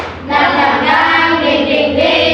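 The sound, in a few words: class doing a rhythmic spirit clap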